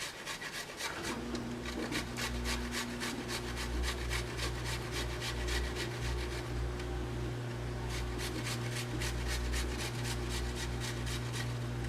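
An ingredient for a weight loss tea is rubbed against a grater in quick, regular rasping strokes, close and steady, with a brief pause midway.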